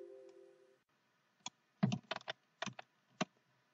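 Computer keyboard being typed on, a quiet sparse run of separate key clicks in an otherwise near-silent room.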